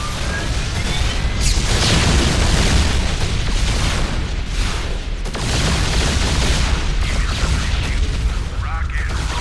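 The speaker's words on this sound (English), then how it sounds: "A popular choice is the Yamato cannon, which does significant damage to single enemy targets." Heavy booming blasts and bursts from a StarCraft Terran battlecruiser's Yamato cannon, loud and dense throughout with rumbling impacts and mechanical clatter, mixed under game effects.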